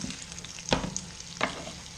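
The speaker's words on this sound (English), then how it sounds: "as this butter cooks down, that will give it a nice nutty flavour to it" Butter sizzling and cooking down in a hot pan before a haunch of venison goes in, a soft steady fry with two brief crackling spits, close and quiet.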